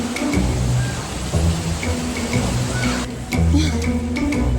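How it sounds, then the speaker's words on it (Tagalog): Heavy rain pours steadily during a night walking tour of Intramuros, a dense, close hiss of water with a few brief heavier splashes and gusts. "Ang lakas ng ulan guys."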